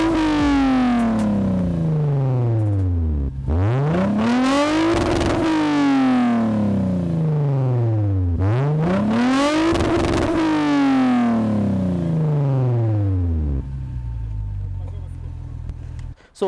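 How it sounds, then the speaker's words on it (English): Toyota Mark X GS with Kakimoto exhausts, revved loudly and up close in two long sweeps, engine pitch climbing and falling smoothly each time before settling back to idle. "do the sound test so that you can hear how good the Kakimoto exhausts sound"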